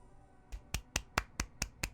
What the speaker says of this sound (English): There's a little clap.